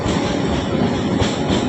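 A train rolls past close by on the tracks beside the Ganges riverside in Kolkata, a loud, steady rumble of wheels and carriages that fills the whole stretch with no voices.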